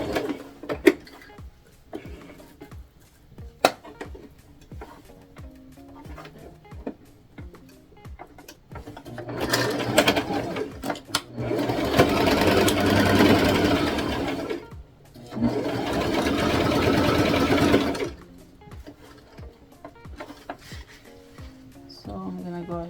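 A sewing machine stitches a Barbie doll tutu in two bursts of steady whirring, one of about five seconds and one of about three. Quieter stretches in between carry faint clicks and handling noises.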